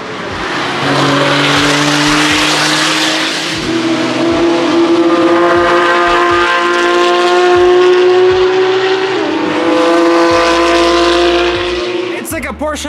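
Porsche race cars roar around the Road America circuit during a Porsche-only event, engines revving up and shifting through gears as they pass close by and loud, tires squealing, with faint crowd voices.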